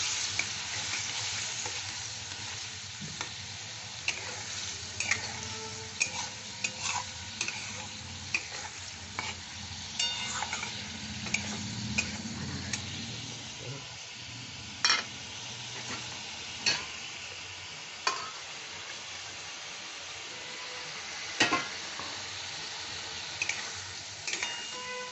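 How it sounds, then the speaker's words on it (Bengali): Curry ingredients sauté in a pan with a steady close sizzle, punctuated by regular scraping and tapping of a spoon as they are stirred, continuing for the whole stretch with no talking. "এটা একটু কষা হোক।"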